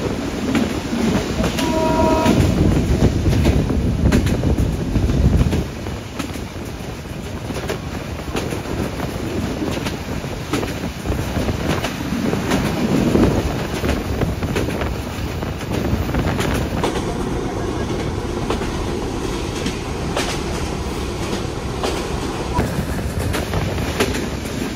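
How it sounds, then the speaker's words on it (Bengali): An express train rolls through a station without stopping, a steady loud rumble with clickety-clack of wheels and wind buffeting throughout. "এই মুহূর্তে আমাদের ট্রেন থ্রু পাস যাচ্ছে সাবদারপুর স্টেশন।"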